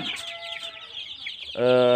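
Day-old Bangkok chicks peep and cluck in a wire-ring brooding cage, a busy cluster of close, high chirps that swells into a louder, fuller call at the end.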